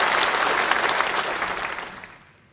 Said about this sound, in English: please applaud for its approval